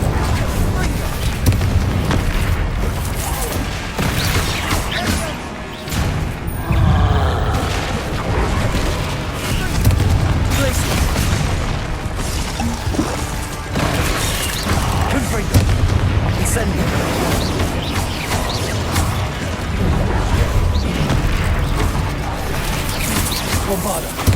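Bombarda explosion spells in Hogwarts Legacy fire alongside Confringo and other combat spells, giving loud, dense booms and crashes through a continuous heavy mix of game effects. A voice calls out spell names throughout.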